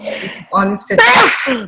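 One sharp, loud sneeze bursts out on a video call, breaking in after a stretch of people talking.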